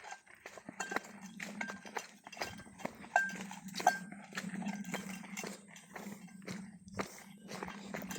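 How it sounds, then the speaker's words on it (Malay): A cow's bell clanks as the animal moves, with irregular hollow metallic knocks and footfalls over a low steady hum, at moderate distance. "Tapi lebih kepada lembu sebab dia bunyi ketung-ketang,"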